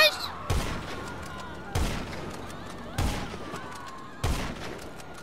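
Gunfire in GTA 5 Online sounds as four sharp, evenly spaced shots about a second apart, each cracking loudly and then trailing off into a faint background hum.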